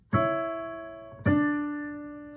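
Two keyboard chords played one after another, each struck cleanly and left to ring and fade, forming a simple two-part cadence with no talking.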